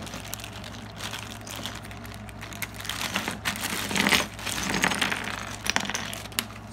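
A plastic bag crinkles and rustles as it is handled and opened one-handed, irregular close crackling bursts with soft clicks, no talk.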